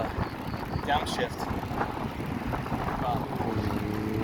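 Wind buffets and roars against the microphone while bicycling on a beach on Sanibel Island, Florida, a dense continuous rumble with gusty swells throughout, close and loud, with faint rattles beneath.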